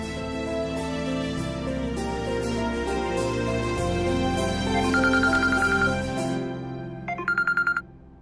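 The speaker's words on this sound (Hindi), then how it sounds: "दादी का फोन आ रहा है जगराते के लिए" A phone rings with an incoming call, a melodic ringtone chiming through a bed of music before a short burst of repeated electronic tones plays alone near the end.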